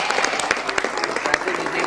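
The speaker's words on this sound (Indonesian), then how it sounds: "tepuk tangan dong" A studio audience bursts into applause, dense steady clapping with a few sharper claps standing out, lasting just under two seconds, with a voice faintly underneath.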